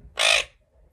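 A single loud, harsh bird caw rings out close by for a fraction of a second, then quiet background follows, on a rainy day.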